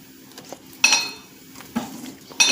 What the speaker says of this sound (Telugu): స్పూన్ ఉందిగా కలుపు.